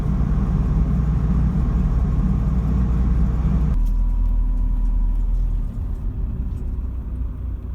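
A self-built VW T5 camper van cruises along the road with a loud, steady engine and tyre rumble that cuts abruptly and settles to a quieter drone.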